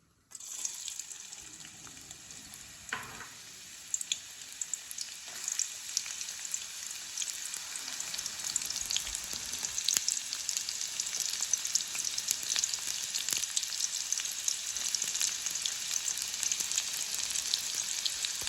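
Onions fry in a generous amount of oil in a pan, a dense, continuous crackling sizzle heard close and loud for the whole stretch, with occasional stirring and no voices.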